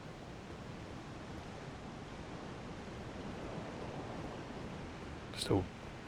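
Steady broadband rush of a waterfall of filth pouring at the Lake of Rot in Elden Ring, a continuous roar filling the scene, with a brief sharp louder burst near the end.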